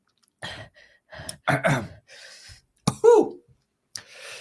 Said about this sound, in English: The stream is now just heavy breathing.